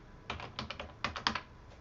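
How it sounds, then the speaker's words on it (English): Keys tapped on a computer keyboard while entering a short word, a quick run of soft, close clicks in two brief bursts over a quiet background. "So let's type metahuman here."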